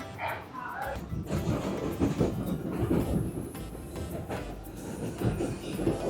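A New York City subway train near the World Trade Center rumbles along with rhythmic clatter and rattling of the cars, a steady mechanical roar that swells and dips slightly.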